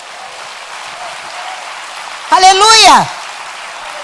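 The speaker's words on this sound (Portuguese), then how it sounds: "Uma salva de palmas para Jesus." A church congregation applauds at a spiritual warfare seminar, a steady hiss of many hands clapping throughout, briefly topped by a loud shouted exclamation from a voice.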